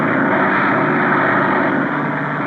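Bomber airplane engines in a Charlie Chan film drone in a loud, dense, unbroken roar heard close, with no voices over it.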